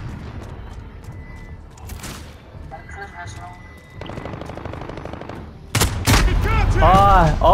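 Call of Duty: Modern Warfare gunfire: quiet, scattered shots at first, then a loud burst of rapid automatic fire near the end, with voices talking over parts of the action.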